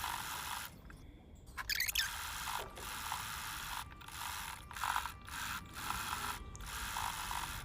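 A sewing machine stitches wide lace onto a saree blouse, running in a steady mechanical whir with brief stops and clicks, quiet and close, no talking.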